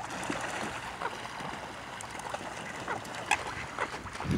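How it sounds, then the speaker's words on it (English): Ducks quack faintly by the water among steady outdoor ambience of lapping water and rustle, with a few short calls scattered through a noisy, fairly distant background. "I found the other duck"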